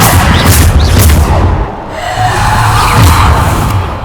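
Depulso force spell in the video game Hogwarts Legacy, heard as loud, booming blasts with rumbling low impacts and a brief dip before a second surge, all close and dense.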